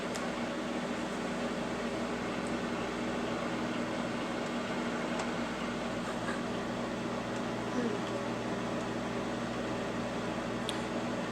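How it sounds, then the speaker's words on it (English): A microwave oven heats a bowl of soap, giving off a steady, even electrical hum with a constant tonal drone and a few faint clicks throughout. "stick the bowl or plate, as the case may be, in the microwave and set it to 2 minutes."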